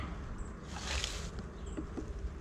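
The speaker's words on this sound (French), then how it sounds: "Le corps, c'est là où sont les abeilles" Honeybees buzzing at an open beehive with the brood body and honey super, a steady close hum that swells briefly in the middle, with no talking.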